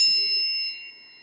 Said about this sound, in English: My phone was supposed to be on vibrate.